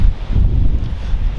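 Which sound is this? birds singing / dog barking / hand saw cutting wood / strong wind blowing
strong wind blowing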